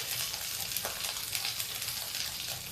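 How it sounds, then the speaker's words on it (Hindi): Potatoes frying in hot oil in a kadhai, a steady close sizzle with occasional soft stirring scrapes and no talk. "अब थोड़ा सा कढ़ाई धीमी हो गई तो अब हम इसमें आलू और डाल देते हैं"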